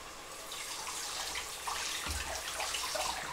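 Water is poured onto risotto rice in a pan while cooking, giving a steady, close, moderately loud pouring hiss with a brief heavier splash midway.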